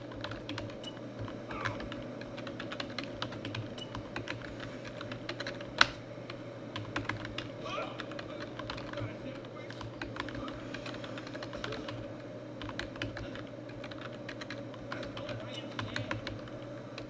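Steady computer keyboard typing at close range, a continuous patter of key clicks running the whole stretch over a low background hum, with one sharper isolated tap partway through.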